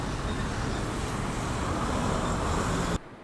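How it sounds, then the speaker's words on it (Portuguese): Steady city street traffic at a stoplight in Derby, Recife, a dense continuous wash of car engines and road noise with no clear horn blasts, loud and unbroken until it drops away abruptly near the end. "Entre o som dos carros e buzinas,"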